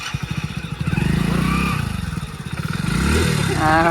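A motorcycle stuck in mud in the rain putters with rapid pulsing firing, rising and revving in bursts, close by and loud, while people shout over it.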